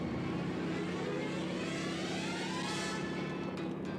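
An airplane's engine drones loud and steady from a played video just before it crashes, with a broad continuous roar and a slight rising sweep partway through, no voices over it.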